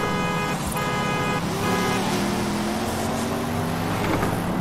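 Car horn honking in Forza Horizon 5 during a Peugeot versus Porsche race, several short toots repeated over a steady engine drone and road noise.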